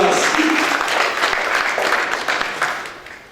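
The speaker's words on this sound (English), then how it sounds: "Mr. Jean-Patrice Coué, Please give an applause." Brief audience applause at the official launch of an African celebrities magazine, greeting an embassy official: a dense wash of many hands clapping at moderate loudness that gradually thins and tapers off.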